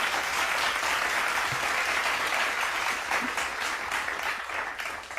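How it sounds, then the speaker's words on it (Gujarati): Participants in a Zoom meeting clapping together, a steady, dense wash of applause running without a break for about five seconds, fairly soft and slightly uneven as it fades near the end. "તાળીઓનો અવાજ આવ્યો બધાને યસ સર."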